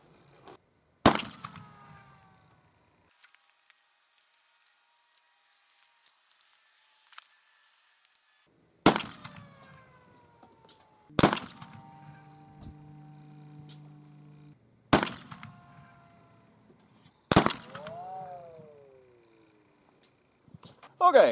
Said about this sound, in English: I'll start by shooting a paper target to see if the accuracy is acceptable